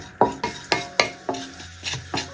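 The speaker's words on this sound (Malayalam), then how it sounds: "വലിയ ജീരകമെല്ലാം മൂത്ത് നല്ലൊരു മണം വരുന്നവരെ ഒന്ന് ഇളക്കി കൊടുക്കുക." Crushed fennel seeds are stirred in hot oil in a pan, heard as about eight evenly spaced scraping strokes of a spoon against the pan. A faint sizzle sits underneath, with no voices.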